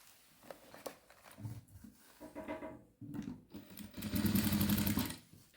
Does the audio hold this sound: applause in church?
no